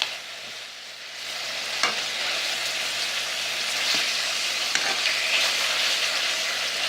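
Flank steak fries in oil in a pan with a loud, steady, close sizzle, broken by a few faint clicks and shifts, with no talk.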